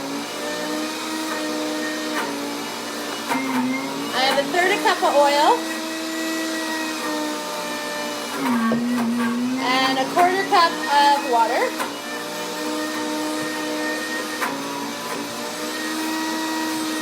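A kitchen blender whirs loudly for brownie batter, its motor pitch rising and falling in bursts, while someone talks over the steady drone.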